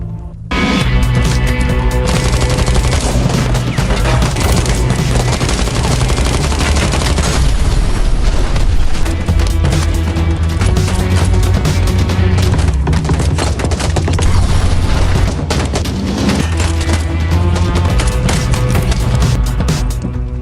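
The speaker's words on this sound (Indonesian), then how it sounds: "ternyata Izel masih hidup dan berhasil menembak sahabat Sarai sebelum akhirnya Izel juga dihabisi oleh Victor" Gunfire in an action film scene about a hired killer whose girlfriend is kidnapped: loud, dense bursts of shots and booms packed together with a thick score and effects, running nonstop at full volume.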